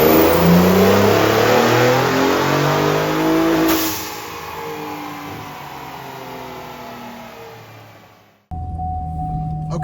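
A Ford Raptor truck engine is revving hard through a dyno power pull. The loud, sustained roar winds up and then eases off before cutting out abruptly, leaving a steady tone.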